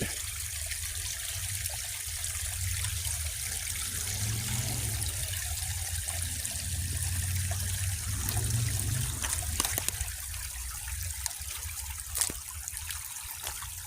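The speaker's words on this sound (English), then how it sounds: "I'm standing in the water." Shallow water with a sandy bottom and grass nearby swishes and trickles steadily as someone wades through it, a soft continuous wash with a few faint splashes, heard close and fairly quiet.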